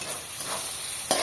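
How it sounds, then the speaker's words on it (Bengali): Spices for a meat dish stir-fry in a pan, giving a continuous close sizzle with a brief louder scrape near the end. "এই যে এটা কষাচ্ছি আর এটাও কষাচ্ছি।"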